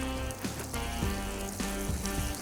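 Butter sizzles in a pan as the base for a white sauce, a soft continuous crackle beneath a prominent tonal musical background.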